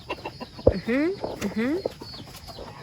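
A hen with four newly hatched chicks in a coop, giving soft clucks and a couple of drawn-out rising calls, close by, with faint short peeps and light background noise.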